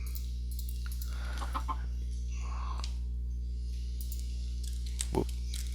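Video game chickens on a farm, soft scattered clucks over a loud steady low hum, with a quiet voice speaking now and then.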